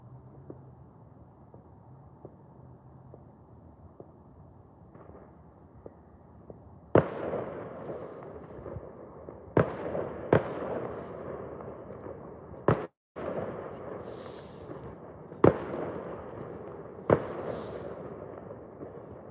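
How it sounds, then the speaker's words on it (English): Distant fireworks going off somewhere beyond a hill in London, heard but not seen: a series of sharp, separate bangs at irregular intervals over a low outdoor rumble, fairly far away and moderately loud. "I could hear a lot of fireworks like beyond that hill"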